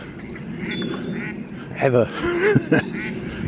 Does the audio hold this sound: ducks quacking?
yes